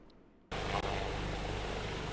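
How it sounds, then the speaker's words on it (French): The presidential helicopter lands at the Katiola heliport, its rotor and engine noise cutting in abruptly as a loud, steady roar that fills the rest of the moment. "l'hélicoptère présidentiel atterrit à l'héliport de Katiola"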